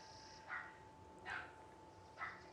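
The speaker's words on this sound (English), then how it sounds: "If you hear barking, that's Maggie." A dog barks three times, faint and distant, in short spaced bursts behind a quiet indoor background.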